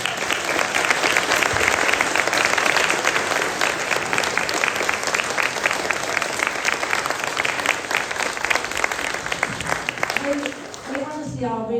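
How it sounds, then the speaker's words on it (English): An audience at a Christmas concert claps in a sustained, dense round of applause for about ten seconds. It fades slightly before a voice begins speaking at the very end. "So please, can you all give yourselves a round of applause"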